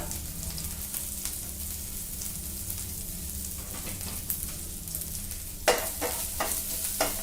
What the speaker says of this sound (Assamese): ভালকৈ লৰাই দিম